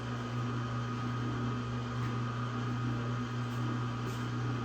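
A meat mixer churns elk sausage mixture with a steady mechanical hum and low motor drone, continuous and even throughout.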